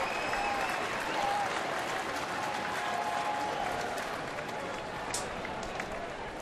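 Baseball crowd at a Detroit Tigers home game against Seattle rising to its feet and applauding, a steady, dense roar of clapping and cheering that fills the stadium throughout with a murmur of voices beneath.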